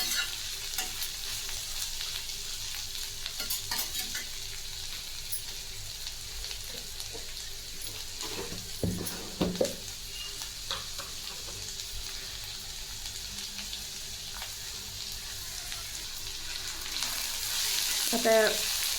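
Green chillies and beans frying in oil over low heat, a steady soft sizzle with occasional stirring scrapes and clinks running throughout, close and alone without talk.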